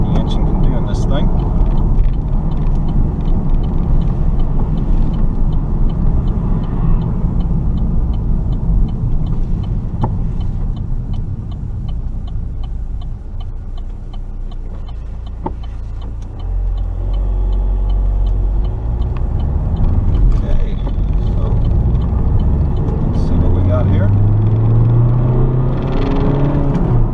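A 2011 Vauxhall Insignia SRi with a 2-litre turbo diesel accelerates onto a bypass. There is a steady low engine and road rumble throughout, with a rising drone near the end, and a person talks over it.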